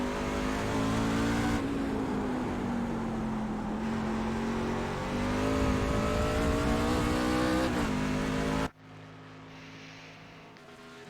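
NASCAR trucks racing at Mosport (Canadian Tire Motorsports Park) in the iRacing sim: a loud, steady engine drone with shifting revs for about eight seconds, then cutting abruptly to a much quieter background.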